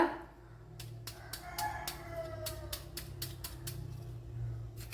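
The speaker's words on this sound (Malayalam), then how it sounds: "അതിനായിട്ട് ഇതുപോലെ കൊത്തി അരിഞ്ഞെടുക്കണം സവാള" An onion is finely chopped with a knife for an Onam thoran. About a dozen crisp, fairly regular chops sound up close over a low background hum, with no talking.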